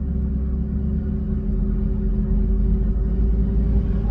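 From inside, a car cruises along a highway surrounded by semi trucks, making a steady low road rumble and engine drone at even loudness, with no talking.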